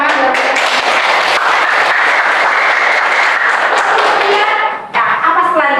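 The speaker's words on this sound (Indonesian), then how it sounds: "Tepuk tangan buat kalian." A classroom of students breaks into loud, dense applause, sustained clapping that fills the room for several seconds before a brief dip and a final burst.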